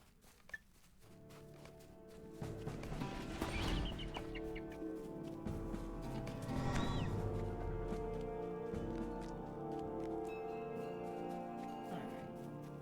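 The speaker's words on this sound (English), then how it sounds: "There's a bird." Bird calls in the Lord of the Rings Online video game, chirping and clucking game-creature sounds over a steady ambient music bed with occasional rustling steps.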